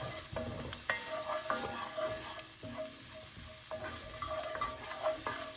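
Chili paste and Chinese five spice sizzle in a hot pan with onions, green onions and sherry, a steady frying hiss broken by repeated scrapes and stirring clatter from a utensil kept moving.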